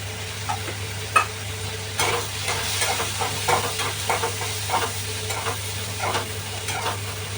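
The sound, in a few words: roasting and stirring spice paste in pan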